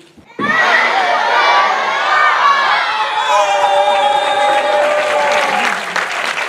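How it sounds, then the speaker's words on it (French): Children and an audience at a children's festival burst into loud, sustained applause mixed with shouts and cheers, starting abruptly and holding steady close by for several seconds. "on applaudit tout le monde"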